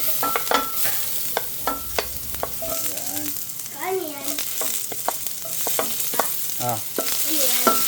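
Garlic and onion sautéing in a pan for chicken sinigang, a steady close sizzle broken by frequent scraping and clattering stirs, with no talking.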